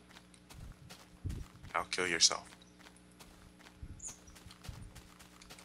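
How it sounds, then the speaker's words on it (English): Horse hooves clip-clopping in the MineZ game, a handful of soft, spaced hoof thuds at a walking pace, with a person talking briefly over them in the middle. "I'm taking this horse with me."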